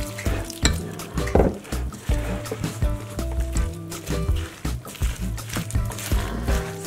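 Vegetable fritter (bakwan) batter with bean sprouts being stirred by hand in a bowl, a soft wet churning close by, partly buried under steady background music.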